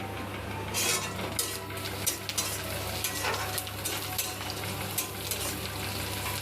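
Steady sizzling of food frying in a pan, with occasional scraping and clinks of a utensil stirring, under a low background hum.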